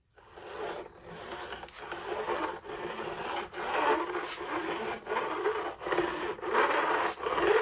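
A file is drawn across the fret ends of a bass guitar at the bevel, giving a series of close, dry rasping strokes in an even back-and-forth rhythm, each stroke separated by brief pauses, with no voices.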